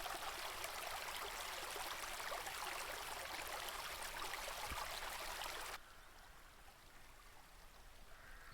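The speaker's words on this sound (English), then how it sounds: "We can go this way, but we cannot go over the creek." Creek water runs steadily in the Rhiannon: Curse of the Four Branches video game, a continuous close rushing babble that drops abruptly to a quieter trickle near the end, with no voices.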